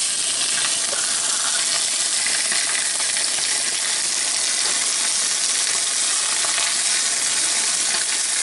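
Chicken pieces for lemon chicken fry and splatter in a hot pan, a dense, steady, close sizzle with crackling pops running the whole time, no voices.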